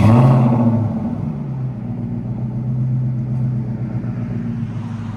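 An Infiniti M45 with a 4.5L V8, no catalytic converters and Jones JFP full-bore mufflers, gives a brief rev that settles into a deep, loud, steady rumbling idle up close.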